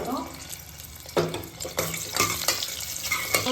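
Oil with two pieces of mutton fat melting and frying in a pan for a native mutton sambar, giving a steady close sizzle with intermittent stirring scrapes and clatter; a voice is faintly present underneath.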